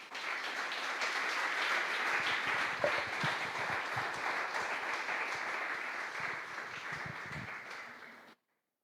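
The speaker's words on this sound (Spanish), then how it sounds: "denle un aplauso al Señor" A church congregation applauds together in sustained, dense clapping that holds steady for about eight seconds before stopping abruptly, filling the room without any talk over it.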